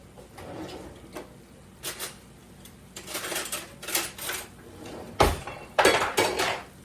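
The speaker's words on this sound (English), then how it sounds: "let me get a spoon" Kitchen utensils rattle and clink while a spoon is fetched during shrimp toast preparation, a series of separate clatters and knocks that grow louder and sharper toward the end.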